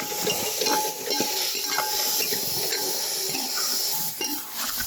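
Mutton liver pepper fry, village style with chilli powder added, sizzles steadily in a pan while being stirred, with scraping strokes and spattering close by and no talk.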